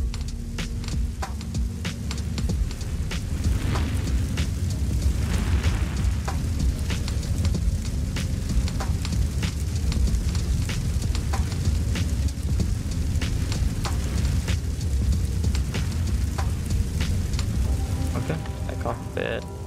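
Explosions and spreading fire in GTA San Andreas produce a loud, continuous roaring, crackling rush with no pauses, dense and close from start to finish.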